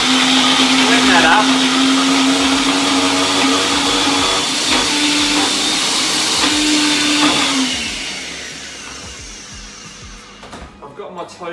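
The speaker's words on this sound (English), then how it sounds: "blend that" Blender whirring steadily as it blends chocolate spread with cashews and milk, loud and close, with a steady motor pitch that cuts out near the end, followed by clatter.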